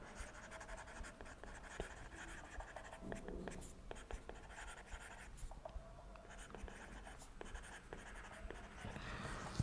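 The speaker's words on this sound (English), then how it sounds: "Maybe I'll just write down." A pen writes a computation table for a Cook-Levin theorem lecture, producing quiet, close, scratchy strokes in irregular bursts with short pauses.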